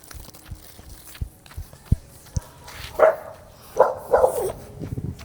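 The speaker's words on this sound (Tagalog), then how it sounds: "May aso pa." A dog barks a few times in short bursts, somewhat distant, over outdoor noise with scattered thumps like footsteps.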